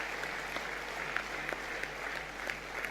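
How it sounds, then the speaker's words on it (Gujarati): Sustained applause from a large audience at an awards ceremony in a hall, a dense, even clatter of many hands with a few sharper claps standing out, steady throughout. "એમને માટે એકવાર ખૂબ જોરદાર તાળીઓ હોવી જોઈએ."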